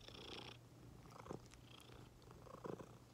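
A female cat purrs close to the microphone in a quiet indoor room, a soft low rumbling drone running throughout with a few brief rustles and handling bumps.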